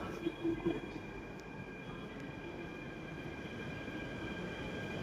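A metro train hums and screeches faintly at a distance, wheels squealing under a steady station drone, with a few brief knocks near the start.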